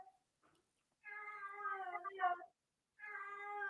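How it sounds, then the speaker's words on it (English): A pet cat meows twice, close and clear. A drawn-out, wavering cry comes first, then a pause and a second meow, with no talking. "Can you hear my cat?"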